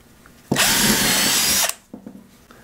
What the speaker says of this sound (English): First up, compact 12-volt drill, 1/8-inch drill bit, piece of 4x4 softwood